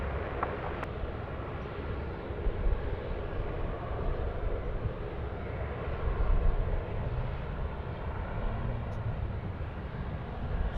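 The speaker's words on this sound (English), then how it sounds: "Vietnam Airlines now coming in" A Vietnam Airlines airliner landing at Sydney Airport gives off a steady, broad engine roar that holds at an even level throughout and swells slightly midway. No one speaks.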